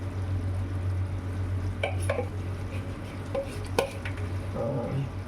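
Coconut milk squeezed from half a coconut is poured into a simmering fish curry and stirred, with soft scraping and liquid sloshing in a pot over a steady low hum of a stove or fan, no talk.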